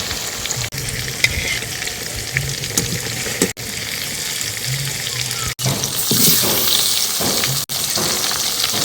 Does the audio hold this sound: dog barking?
no